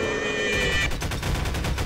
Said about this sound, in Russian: Ого, пули свистят.